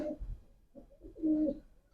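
A breeder pigeon in a breeding setup gives a soft, close coo, a low throaty phrase of a few rolling notes with short pauses between them.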